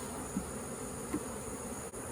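Honeybees buzz around an open hive during a summer inspection, a dense, steady drone close by with no voices.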